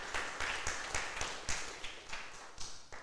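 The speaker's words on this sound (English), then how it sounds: "Let's give Victoria a round of applause" Sparse, uneven clapping from a small audience at a 2021 university communication studies media showcase, greeting the second-place documentary award winner; the claps come as scattered separate slaps over about three seconds rather than a dense roar.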